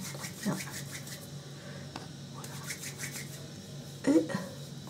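A Lush solid cleansing product is rubbed against a damp cotton pad to soften it, producing faint, soft scratchy rubbing strokes close by, with a brief louder scrape near the end.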